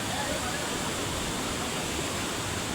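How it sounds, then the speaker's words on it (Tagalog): Dilitiwan Falls in Majayjay, Laguna pours as a close, constant rushing roar of falling water, dense and unbroken throughout. "Lilibutin natin ang lugar na ito, ang Dilitiwan Falls."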